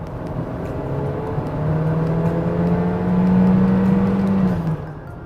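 Loud, steady car engine drone from inside the cabin, a low hum that rises in pitch as it revs harder midway, then eases slightly near the end.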